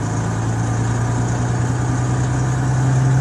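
Truck engine running steadily under load with a deep, constant hum and slowly rising drone as revs build during gear shifting, loud and close with no talk.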